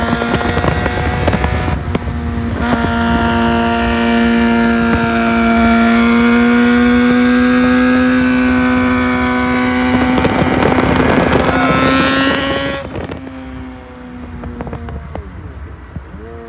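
A Suzuki GSX-R 600 motorcycle engine runs near the microphone with a steady, loud hum. The pitch rises slightly midway, then the engine cuts off near the end and leaves only faint background noise.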